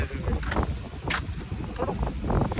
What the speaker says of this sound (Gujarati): ઠંડો પવન ચાલુ થઈ ગયો